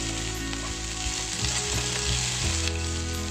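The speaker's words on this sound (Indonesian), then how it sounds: "Lalu diaduk-aduk biar bercampur rata dengan bahan-bahan lainnya." Chicken liver and gizzards stir-fried with wilted chili in a pan give a steady, close sizzle, with scraping stirs of the spatula breaking through now and then. No one speaks.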